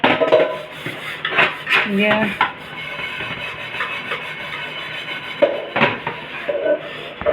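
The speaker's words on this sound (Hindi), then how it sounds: "आज हमारी बहन बर्तन साफ़ करने लग रही है" Dishes being washed and scrubbed by hand, with clattering pots, pans and cutlery and repeated rubbing strokes close by, irregular clinks and scrapes throughout, and a brief spoken word.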